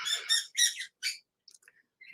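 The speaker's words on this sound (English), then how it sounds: "these birds, they're all little lovebirds" Pet lovebirds squawking indoors, several harsh, loud, close calls in quick succession, then a scatter of fainter chirps and squeaks after a short pause.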